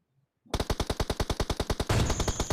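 Automatic gunfire in a battle royale shooter bursts in after a brief quiet: a fast, evenly spaced string of loud, close shots, about twenty rounds, growing denser toward the end.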